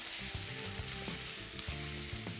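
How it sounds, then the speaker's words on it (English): Mango pieces frying in hot oil and butter in a pan, a close, steady sizzle with crackling spatters running continuously throughout. "So that initial sizzle is perfect"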